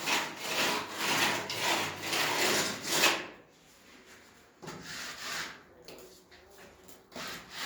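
A hand tool rasps and scrapes over fresh exterior cement plaster on a rural house wall under construction, in a close, steady run of strokes, then shorter scrapes after a brief pause.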